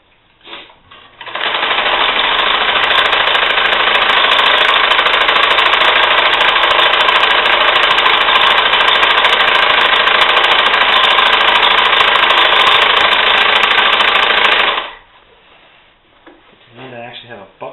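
A sewing machine running steadily while stitching a hammock quilt, a loud, even mechanical whir that starts after a brief pause, holds for roughly thirteen seconds, then stops abruptly, with light handling noises around it.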